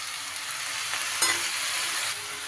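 Beaten yogurt poured into a hot pan of curry and stirred, a steady close sizzle with soft scraping and one brief clatter partway through, no voices.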